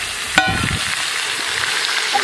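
Fish sizzles and crackles loudly in hot oil in a home kitchen. The frying hiss is steady, with a brief stirring clatter near the start.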